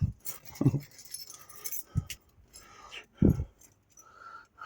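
A large bunch of car keys jangles and clinks in scattered metallic bursts at a hot Ohio garage, with a few louder handled rattles and faint speech and background noise around them.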